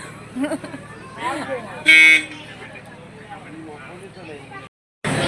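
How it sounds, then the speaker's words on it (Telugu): A single short blast of a boat horn stands out between stretches of nearby talking, with engine hum in the background, as the boat prepares to depart. "హారన్ కొడుతున్నారు. ఇంకా బయలుదేరుతుంది."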